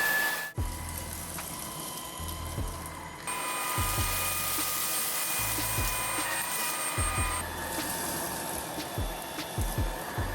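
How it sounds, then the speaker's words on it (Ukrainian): Cordless Dreame P10 vacuum cleaners whir on a hard floor, a steady motor hum that shifts in pitch and loudness between speed settings, with soft knocks and rubbing as the heads move about. "Обидва пилососи непогано прибирають навіть на першій швидкості, трохи краще на другій і швидше на третій."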